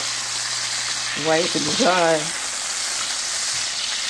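Onions or herring sauce ingredients sautéing in a pan, a steady broad sizzle running throughout while someone speaks briefly in French over it.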